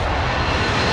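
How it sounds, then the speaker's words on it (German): Enemy precision airstrike aircraft in Warzone roars overhead, a loud, close, continuous engine drone with no break across the short moment. "Feindlicher Präzisionsluftschlag."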